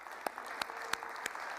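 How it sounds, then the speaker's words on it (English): Sparse, light clapping from a small audience at a township address, a handful of distinct claps standing out over a soft room background. "Yes, you can clap."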